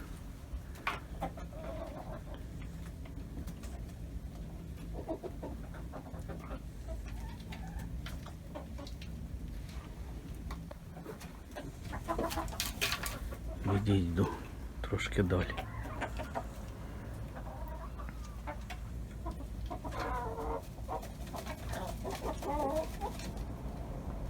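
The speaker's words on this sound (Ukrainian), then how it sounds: "оці білі кури" White chickens cluck on and off close by over steady outdoor background noise, while a person talks at times among the birds.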